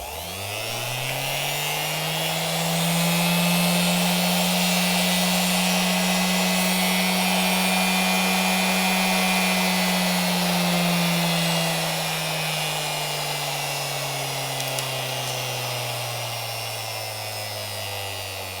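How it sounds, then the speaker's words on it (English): Parkside PFDW 120 A2 double bench grinder running with no workpiece, a steady loud motor whine and hum that rises slightly in pitch and then eases down over the run, alone and close. "Now I have connected the grinder to power, and let's see how it works."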